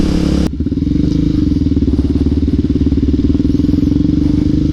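A Honda CBR 954 motorcycle idles close by with a loud, steady engine rumble and a rapid pulsing beat, opening after a brief burst of louder noise.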